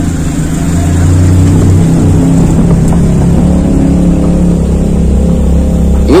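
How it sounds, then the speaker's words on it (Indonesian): A car passing by on a road beside an idling Toyota Kijang Super, a steady engine rumble that swells and fades over a few seconds, with no talking. "Sebentar, ada mobil lewat."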